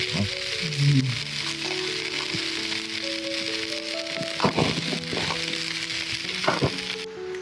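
Mackerel grills over charcoal as dripping fat sizzles steadily, a continuous bright hiss with scattered pops and crackles, close and fairly loud, with a few faint knocks near the end.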